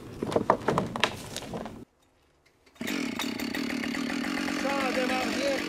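A heavy Husqvarna 572 chainsaw pulls into life after a brief silence, then runs at a steady, loud idle-to-mid rev close by; talk and handling noise come before it.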